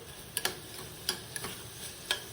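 An onion and potato curry with a pinch of garam masala is stirred in a pan, a soft sizzle broken by about five sharp spoon clicks against the metal, close and fairly quiet, with no talking.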